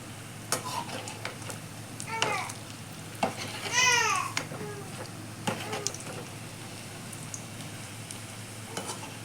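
Onion bhaji frying in hot oil: a steady sizzle sits under the whole clip, with a few stirring clatters and a short burst of babbling voices midway.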